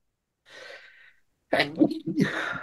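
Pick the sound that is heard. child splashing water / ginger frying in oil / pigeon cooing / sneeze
sneeze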